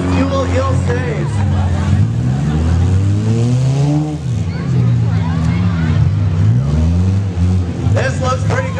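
Demolition derby cars at the Caledonia Fair rev and rumble in a loud, continuous roar with rising and falling engine pitch, while an announcer talks over the din.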